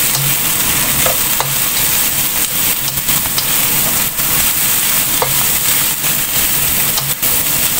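Spring roll filling with bean sprouts is stir-fried in a pan, producing a loud, steady sizzle with scraping stirs and occasional knocks throughout.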